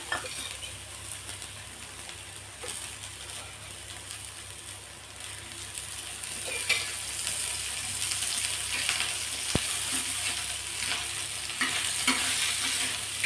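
Bombay duck (bombil) fries in oil with a continuous bright hiss and crackle that grows slightly louder over time, heard up close with no voices.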